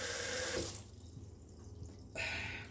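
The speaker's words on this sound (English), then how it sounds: "a whole bunch of water running" Water gushes from a tap in a steady hiss while cleaning a Nama J2 juicer, briefly quieting in the middle before flowing strongly again, close by with no talking.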